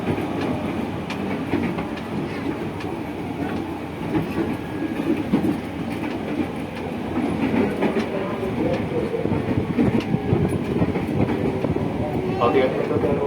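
A JR 205 series commuter train with Toyo VVVF traction running on the KRL Commuter Line between Pasar Minggu and Tanjung Barat, heard from inside: steady rumbling wheel noise and rhythmic rail clatter throughout, with faint voices in the car.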